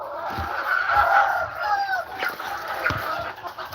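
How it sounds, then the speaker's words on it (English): Native chickens cluck at feeding time on a farm, a mix of close, overlapping clucks and fowl calls with a possible rooster crow, continuous over a few seconds with some faint background noise. "Gonna feed the native birds now."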